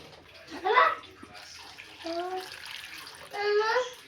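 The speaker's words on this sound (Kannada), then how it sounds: "ಸ್ವಲ್ಪ ನೀರನ್ನು ಸೇರಿಸ್ಕೊಳ್ಳೋಣ" Water is poured into a pot of potatoes in a home kitchen, coming in three short splashing gushes separated by pauses, with faint voice-like sounds in the background.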